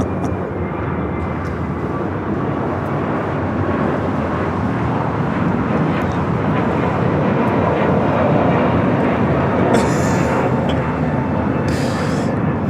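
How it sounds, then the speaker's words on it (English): A United Airlines A321neo taking off at LAX: a loud, continuous jet roar that swells slightly in the middle and stays strong throughout. "This is United Airlines 2113 taking off to Chicago on the A321neo"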